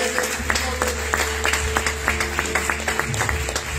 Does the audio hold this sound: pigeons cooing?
no